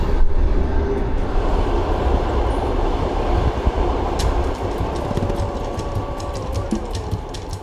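Passenger train rolling along rails, a continuous loud rumble with rattling car noise and scattered clicks of wheels over track joints, heard from inside the carriage.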